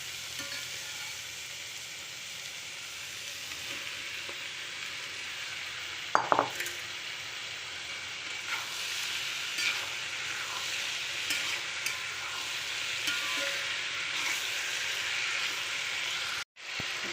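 Tomatoes going into a pan of softened onions, a soft steady sizzle of frying under light stirring, with a sharp clink of a spoon or utensil against the pan near the middle and another near the end.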